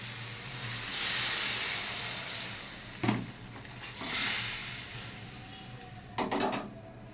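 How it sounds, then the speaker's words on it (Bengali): Water poured into a pan of spiced masala frying on the stove for a Bengali hilsa fish curry, giving a broad steady hiss and sizzle with a few sharp bursts of steam and utensil clatter, close up with no talk. "দিয়ে দিচ্ছি জল।"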